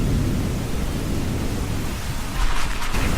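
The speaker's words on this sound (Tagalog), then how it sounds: "Bukulog pa, lakas ng ulan." Thunder rumbles low beneath heavy, steady rain, with a louder swell of noise rising near the end.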